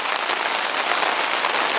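Steady, dense rain pours down at the lion enclosure of Singapore Zoo, a close, even hiss of drops striking surfaces with no pauses and no voices.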